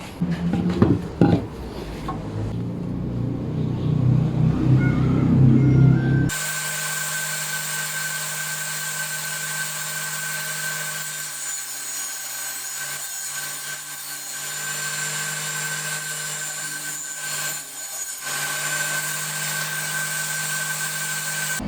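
A steady, continuous table saw cut through wood, loud and close, with a splitter fitted behind the blade, preceded by a few seconds of rougher scraping and knocking; no talking.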